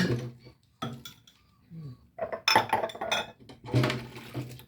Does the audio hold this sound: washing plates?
yes